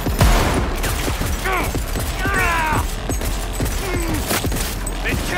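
Gunfire in the game Cyberpunk 2077 during a firefight: a rapid series of sharp shots and bursts continues throughout, mixed with mechanical clanks and game effects, while a player's voice talks intermittently.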